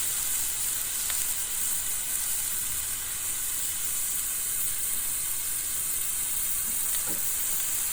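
Burgers sizzle on a griddle outdoors in a steady, dense frying hiss that stays loud and even throughout, with a few faint pops.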